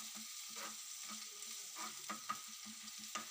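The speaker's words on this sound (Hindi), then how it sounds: "1 से 2 मिनट के लिए इसे भूनेंगे ताकि इसकी कच्ची जो खुशबू है वो खत्म हो जाए" Keema sizzles and fries in a pan while being stirred, giving soft, close scraping strokes over a quiet, steady sizzle.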